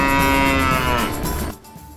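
A cow gives one loud, close, drawn-out moo that cuts off sharply about three-quarters of the way through, leaving a quiet tail.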